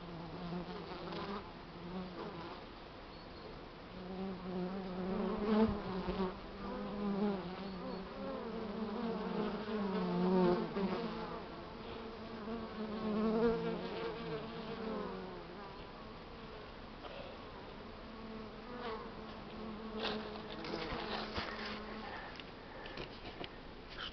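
Honeybees hum steadily around beehives early in the season, a continuous close buzz rising and falling in loudness with no talk over it.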